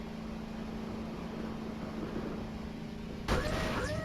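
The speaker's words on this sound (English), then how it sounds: "I'm gonna enable the nitro of my ATV here." An ATV in the Voices of the Void video game runs with a steady motor hum, then a sharp burst of nitro near the end adds a louder, rising whine.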